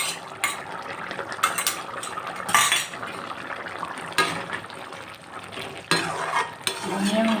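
Chopped garlic added to a frying pan and stirred while cooking a fish curry with jackfruit seeds, a steady sizzle broken by repeated clinks and scrapes of a metal spoon against the pan.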